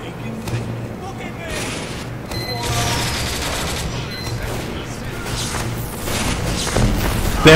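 Sustained rapid gunfire from a Team Fortress 2 sentry gun, mixed with other weapon bursts and booms of a busy multiplayer fight, running continuously at moderate loudness under people talking.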